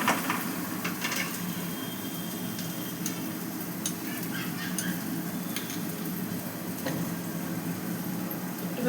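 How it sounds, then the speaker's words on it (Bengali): Chopped onion sizzling in hot oil in a wok, a steady crackling hiss throughout with occasional small clicks of stirring, close and continuous with no talk. "এই যে পেঁয়াজটাকে আমি কড়াইয়ে দিয়ে দিলাম তেলে"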